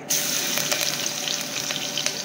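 Crushed garlic hits hot oil already holding whole garam masala, raising a dense, even hiss of frying that holds steady and close throughout, with no voices.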